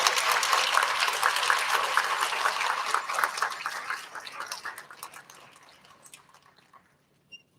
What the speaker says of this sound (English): Let's give a round of applause to all of our first grade friends.